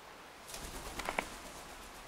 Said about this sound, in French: un oiseau qui s'envole